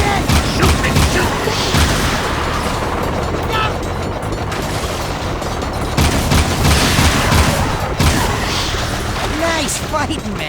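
Rapid gunfire bursts crackle almost nonstop in the Jak II video game, loud and dense, mixed with booms and mechanical clatter while voices shout over the fighting.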